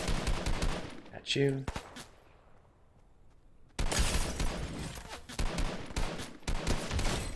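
Fortnite gunfire comes in dense, loud bursts at the start and again after a quiet gap near the middle, with a brief tonal game effect and someone speaking briefly under the shots.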